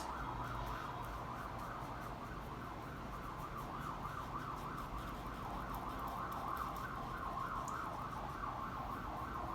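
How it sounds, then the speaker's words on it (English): A wailing siren rises and falls steadily beneath steady traffic rumble, moderately distant, like an ambulance going by on a nearby road. "I think that's an ambulance that you can hear"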